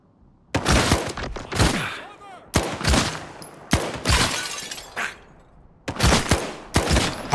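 Gunfire in S.T.A.L.K.E.R. 2 comes in several loud, close bursts of rapid shots separated by short pauses, with sharp cracks and ringing tails.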